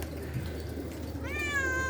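A cat meows once toward the end, a clear rising-and-falling cry after a quiet stretch of low background noise.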